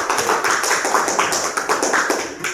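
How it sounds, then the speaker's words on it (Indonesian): A group of people applauds in a classroom, steady close clapping with uneven rhythm lasting a couple of seconds, loud and alone with no talk. "Beri aplaus untuk kelompok"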